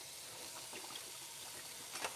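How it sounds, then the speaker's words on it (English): Tap water runs in a steady, faint hiss and trickle, continuous and slightly distant, with no voices over it. "Pretty sure you all can hear this water."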